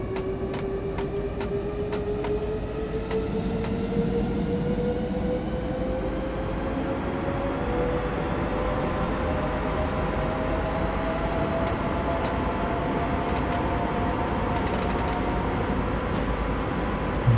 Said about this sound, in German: Hier jetzt einfach mal ganz kurz das Fahrgeräusch der Lokomotive genießen